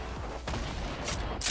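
Gunfire in the Fortnite battle royale game, a few sharp bursts near the middle and a louder burst at the end, over steady background game noise.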